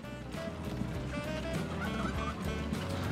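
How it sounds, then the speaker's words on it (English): Turkeys gobbling in the Transport Fever 2 video game, a continuous noisy flock of warbling gobbles and fowl calls, fairly close and steady with no talk. "And the turkeys are giving us the necessary welcome."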